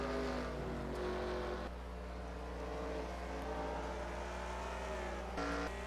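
Race car engines droning steadily in a sim racing Cup Series event with Roush cars, a continuous layered roar of several cars running together, fairly distant with no talk.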